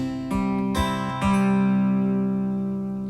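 An acoustic guitar plays a fingerpicking pattern for a song: a few plucked notes alternate the third string with the first and second strings together, then the final notes ring out and slowly fade, with no one talking.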